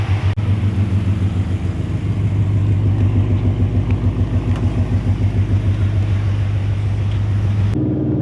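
A Ford Mustang Shelby engine rumbles steadily at close range during a quick drive, with a pulsing low drone and rhythmic throb, no talking, cutting off abruptly near the end.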